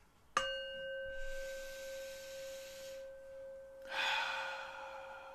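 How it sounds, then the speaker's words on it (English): Over a soft sustained tone, a slow breath is drawn in and then released, the exhale rising in a gentle, airy swell near the end. "So taking a nice deep breath."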